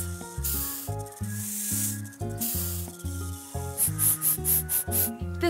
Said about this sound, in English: It's letter S's friends, the snakes.